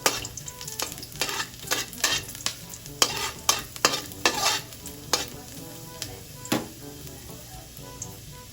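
Sliced ginger fries in hot oil in a pan for fish adobo made with galunggong, with a steady loud sizzle broken by sharp, repeated scraping and stirring strokes of a utensil against the pan.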